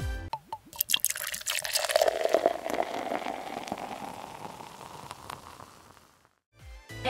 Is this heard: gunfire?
no